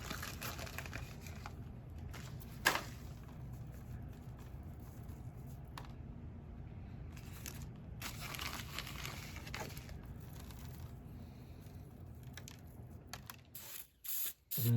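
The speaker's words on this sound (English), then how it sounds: "And then spray some more." Hairspray hisses from an aerosol can onto a handmade model tree in several long close bursts with brief pauses, accompanied by light crinkling handling noises and no speech.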